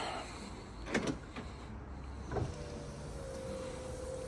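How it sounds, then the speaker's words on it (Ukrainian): Electric power window motor on an Opel Vectra C running one way and then the other, heard as a steady whirring hum with short clunks at each stop, close-up against background noise. "Склопідйомники працюють, як бачите. І в один, і в другий бік."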